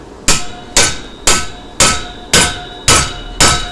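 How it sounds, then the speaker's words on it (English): Seven evenly spaced, ringing metallic blows from a big square hammer driving a part into a Trimatic TH180 automatic transmission from a Holden Commodore, each strike loud and close with a short decay. "The big square hammer."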